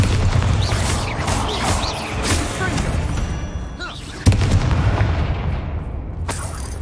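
A Bombarda spell blasts in Hogwarts Legacy: rumbling booms and debris crashes roll through the game soundscape, and a sharp explosive hit lands partway through, followed by crumbling.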